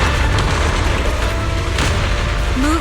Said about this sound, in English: Move in during the gap between explosions.